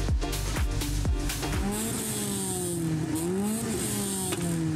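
A modified car with a drilled exhaust revs hard, the raspy engine note surging and dropping several times before settling into a wavering drone, loud and close.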